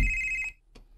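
A cellphone rings with a bright electronic tone that cuts off after half a second, followed by a short, faint blip.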